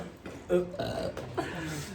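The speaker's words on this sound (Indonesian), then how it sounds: "Sendawa." A single loud, wet burp rolls out close to the microphone, with a few smaller belch sounds around it and quiet talk in the background.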